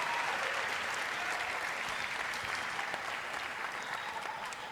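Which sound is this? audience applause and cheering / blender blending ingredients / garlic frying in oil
audience applause and cheering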